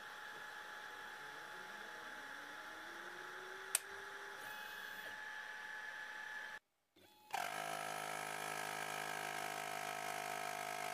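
An Aufero laser cutter runs with its fan blowing smoke off the beam, a steady faint whir and hum that drops out briefly, then resumes brighter and louder.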